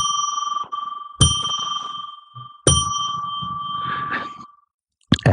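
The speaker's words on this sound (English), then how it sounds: "I'm going to declare sacred space by ringing a bell 3 times." A small bell rung three times to open a sacred-space ritual, each strike a bright, clear ding with long ringing overtones, close and loud, the last one cut short.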